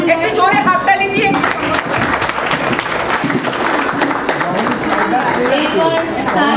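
Loud audience applause fills a hall at a Sri Sathya Sai Balvikas alumni meet in Bankura, steady dense clapping throughout with voices mixed in beneath.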